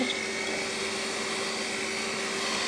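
An electric hand mixer whirs steadily as it blends potato donut dough, a continuous close buzzing drone with no pauses and no talking.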